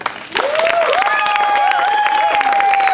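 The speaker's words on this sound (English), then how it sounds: "I want to give these men and women a great round of applause" An audience applauds veterans at a Massachusetts Republican veterans coalition gathering, with clapping and some cheering swelling quickly after a brief pause and holding loud and steady, while a long tonal whistle or feedback-like squeal runs through the crowd noise.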